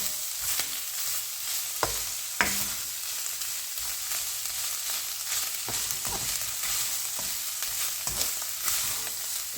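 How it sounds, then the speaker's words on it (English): Garlic fries in a pan for spaghetti bolognese, a continuous close sizzle broken by repeated scraping and tapping strokes of stirring. "I don't like to cook the garlic too much like this."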